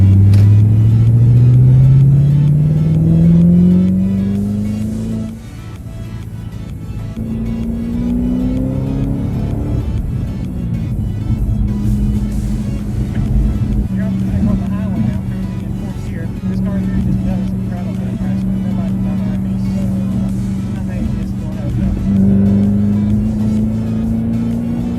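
A 2011 Ford Shelby GT500 drives along, its engine droning and rising through the gears as it accelerates, then settling into a steady cruising hum, with someone talking over the cabin noise.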